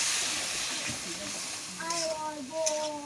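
Spice masala with Kashmiri chilli, sugar and a little water fries in a pan with a continuous hiss and sizzle, while a voice talks over it in the second half.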